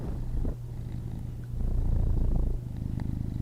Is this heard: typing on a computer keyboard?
no